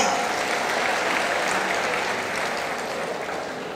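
An audience claps warmly at a kavi sammelan poetry recital in a college hall in Kanpur, sustained dense applause that gradually fades toward the end.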